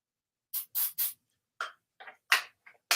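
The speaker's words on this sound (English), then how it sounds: "give it a good spray" A handheld spray bottle mists paint onto a sublimation art project, giving about eight short, crisp hissing bursts in quick irregular succession, close and clear with no talking.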